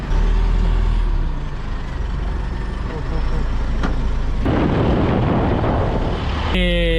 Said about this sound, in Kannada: ಆಬ್ವಿಯಸ್ಲಿ ನಾನಿವಾಗ ತಂದಿರೋದು ಆಫ್ ರೋಡ್ ಗಾಡಿ.